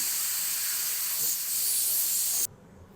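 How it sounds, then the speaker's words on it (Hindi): A pressure cooker on a stove releasing its steam in a loud, steady hiss that stops abruptly near the end of a short burst. "सारा कुकर का जो प्रेशर है वो मैंने निकाल दिया"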